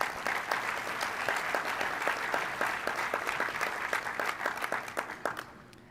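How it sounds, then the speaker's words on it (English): Applause for sponsors at the opening plenary session of an annual meeting, a steady round of many hands clapping with distinct sharp claps, gradually thinning and fading out at the close. "Please give all of our sponsors a round of applause."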